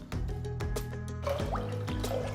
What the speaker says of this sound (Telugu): ఒక పెద్ద గిన్నెలో నీళ్లు పోస్తున్నాను